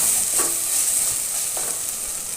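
Ginger garlic paste sautéing in a pan for green chicken masala, a steady close sizzle with light stirring scrapes throughout, no voices.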